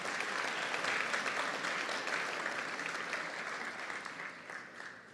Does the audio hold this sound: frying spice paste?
no